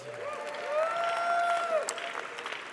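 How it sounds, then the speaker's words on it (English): Applause from a crowd at a Diwali address by Prime Minister Trudeau, with steady clapping building and holding over a sustained background tone, then tapering into scattered claps. "How about a big round of applause for them?"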